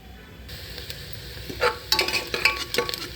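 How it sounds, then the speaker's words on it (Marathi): Onion fries in a pan for a mutton curry, a quiet steady sizzle that grows busier as a utensil stirs and scrapes the pan several times up close. "आता कांदा तळलाय"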